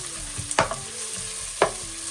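Thinly sliced onions fry for chicken biryani, a steady low sizzle broken by two sharp stirring scrapes of a spoon against the pan, close and alone with no talk.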